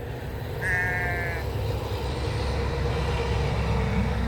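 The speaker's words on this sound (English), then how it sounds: "Isn't that a beautiful sheep?" A sheep bleats once, a short wavering call, against a steady rumble of background noise on a farm in the fall.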